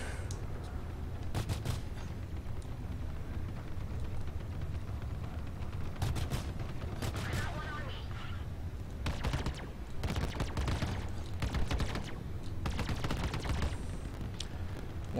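Cutlass Black ship weapons in Star Citizen firing in repeated rapid bursts of gunfire, loud and close over a steady low engine rumble, with short pauses between volleys.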